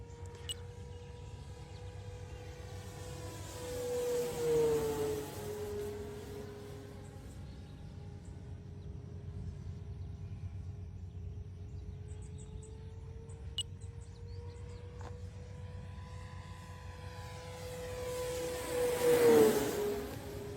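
Electric RC airplane motor at full throttle on a MAXKGO 14S 100A ESC and 6S battery gives a thin, steady whine that swells and bends in pitch twice as the plane passes close, fading between passes.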